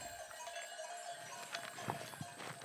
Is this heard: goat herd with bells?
yes